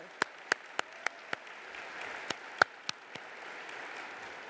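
At a museum conference general session, scattered audience applause forms a soft wash of distant clapping, punctuated by a series of sharp, loud individual claps close by at irregular intervals.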